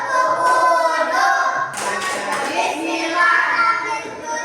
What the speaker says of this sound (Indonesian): Ayo kita tepuk wudhu dulu.